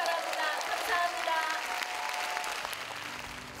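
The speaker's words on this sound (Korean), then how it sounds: "네, 큰 박수 보내주시기 바랍니다." A concert audience at a book event with novelist Jo Jung-rae gives a full round of clapping that fades gradually, with faint voices underneath.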